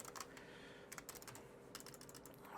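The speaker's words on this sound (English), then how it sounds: "sorry if you can hear the typing" Rapid typing on a computer keyboard, a steady patter of close key clicks in short bursts with brief pauses, faint and alone in a quiet room.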